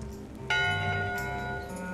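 A ship's bell in the video game Return to Monkey Island gives a single bright metallic strike that rings out with a long, sustained, slowly fading tone over a low background.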